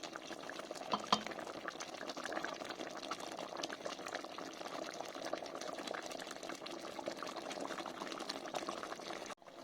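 Chicken curry simmering in a pot on the stove, a steady close bubbling with soft liquid pops running evenly throughout, no voices.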